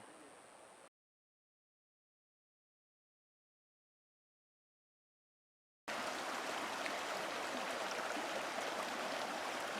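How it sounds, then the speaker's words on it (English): A creek flows steadily near a campsite in Idaho on an evening, heard briefly at the start and then for several seconds after a silent gap, a constant broadband rush of running water. "this is the creek"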